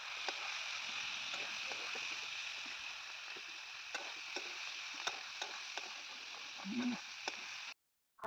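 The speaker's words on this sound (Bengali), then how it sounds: "ওদিকে টমেটোটা ভাজা হচ্ছে" Tomato frying in oil for a Bengali village-style fish curry, a steady soft sizzle with faint ticks and pops throughout, heard at a moderate distance before a sudden cut to silence.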